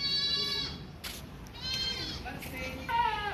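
Goats bleat repeatedly at a goat market, several loud, close, wavering calls overlapping a busy crowd murmur and people talking in the background.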